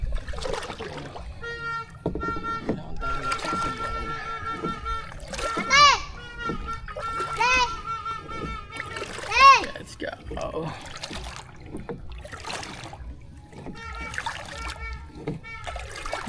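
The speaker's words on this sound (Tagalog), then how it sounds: "ito naman tayo sa bangka." A small boat crossing water, with intermittent splashes and trickling under ongoing talk from adults and a voice.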